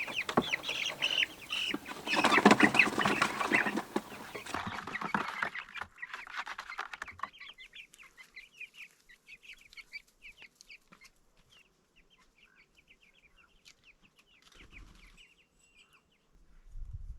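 Backyard chicks clucking and cheeping in a garden, a dense busy flurry of calls at first, then thinning to scattered soft peeps over quiet, with a brief rustle near the end.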